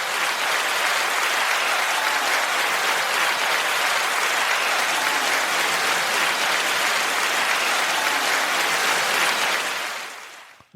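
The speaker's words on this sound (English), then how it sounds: "that was a hell of a clap" A dense wall of loud, sustained clapping from many hands carries on evenly for about ten seconds, then cuts off sharply.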